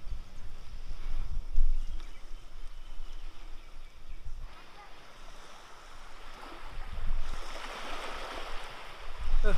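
Sea water at a public beach in Mauritius washes in a steady, noisy rush that swells and ebbs in gentle surges, with no other sounds on top.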